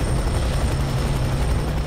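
Helicopter in the video game F.E.A.R. 3, a steady low rotor thrum and engine drone running continuously at fairly loud level, with no voices over it.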